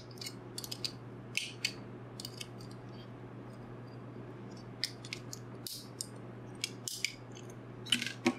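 Needle nose pliers prying the metal bottom shield off an original Xbox controller port, a few sharp close metallic clicks and scrapes spread over a quiet steady background hum.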